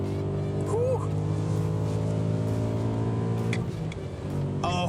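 A BMW M3 V8 engine revs hard toward 7000 rpm, a loud, close, sustained droning roar that holds steady with a slight dip near the end.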